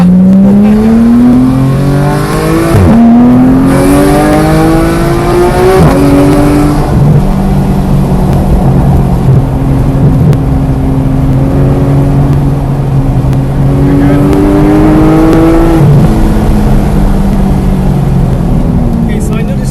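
A Porsche GT3 on Buttonwillow Raceway accelerates hard, its engine note climbing through repeated upshift sweeps, loud and close throughout, with voices talking over it.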